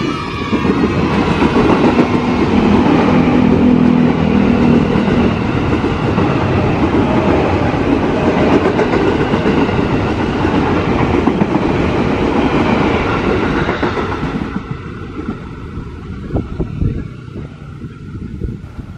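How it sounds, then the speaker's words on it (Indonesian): Train passing on the railway near Cawang station, loud and close with a continuous roar and rail rumble that fades toward the end. "Keretanya berbendera merah putih."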